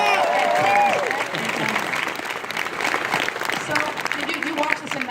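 Audience applause at a BlizzCon 2016 Overwatch panel rises as a dense crowd clapping, steady and fairly loud, mixed with cheers, while people talk over it.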